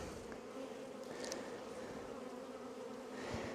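Dense, steady buzzing of many honeybees inside a hive during an apiary inspection on a very hot day, a close continuous drone with a few louder insects passing near, no talk.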